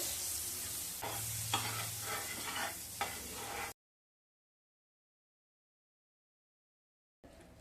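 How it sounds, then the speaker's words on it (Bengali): Butter sizzles in a frying pan over medium heat, a faint steady crackle with soft scraping as it is spread around, then a stretch of silence before the sizzle briefly returns. "বাটারটাকে ফ্রাইং প্যানের চারিদিকে ছড়িয়ে দেব।"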